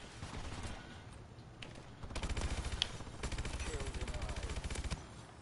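Call of Duty: Advanced Warfare automatic gunfire during hip firing, rapid continuous bursts of shots rattling in dense volleys over a busy game backdrop, with brief gaps between strings.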